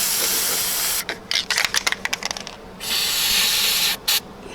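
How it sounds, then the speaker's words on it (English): A spray can of corrosion inhibitor hisses onto Jeep Wrangler TJ battery terminals in a long steady burst, then sputters in short bursts, followed by another long spray and a brief final puff. "What I'm using is some corrosion stop on the terminals here. I'm going to try to spray some on"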